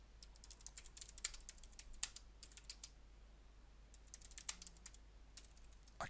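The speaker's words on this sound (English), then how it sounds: "In that case, I'll just have to type it in by hand." Soft, close typing on a computer keyboard, with irregular bursts of light key clicks and short pauses, quiet against a faint hum.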